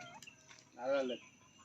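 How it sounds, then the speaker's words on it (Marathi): A single short clucking call from a chicken nearby, rising briefly over quiet background sounds. "हे बघा खाली कोंबडी बघा किती आहेत"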